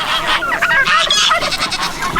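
A flock of ducks quacking and chattering together, many overlapping nasal calls, loud and close, with no speech.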